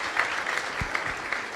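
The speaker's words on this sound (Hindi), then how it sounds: "जोरदार तालियां बजा दें।" Applause from a church congregation during a Wednesday prayer service, a steady broadband patter of clapping held at an even level through a short stretch, with a couple of brief low thumps.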